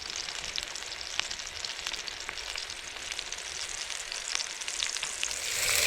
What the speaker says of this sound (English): I've got 6 pork sausages sizzling away